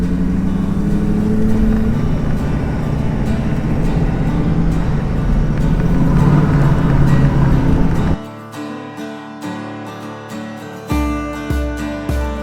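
A truck driving along a road toward Wollongong, with steady loud engine and road rumble for about eight seconds before it cuts to quieter, choppier cabin noise with intermittent bumps.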